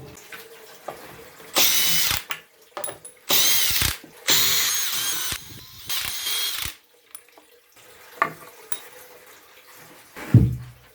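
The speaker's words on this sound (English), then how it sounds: "let's get these screws stripped out of this thing" A power drill backs screws out of timber in four sharp, loud bursts of whirring, separated by short pauses and quiet handling clicks.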